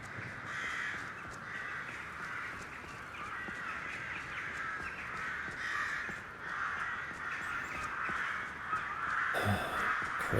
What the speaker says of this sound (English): Crows are coming for us.